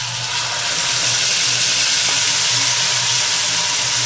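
Spice paste hitting hot oil in a pan for restaurant-style masala soya chaap, a steady, close, loud sizzle with hissing steam that holds evenly throughout and has no talk over it.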